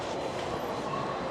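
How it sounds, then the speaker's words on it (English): A Disneyland monorail train rumbles and hums steadily from inside a car while riding, a loud continuous ride noise with no break. "Decided to take the monorail in today."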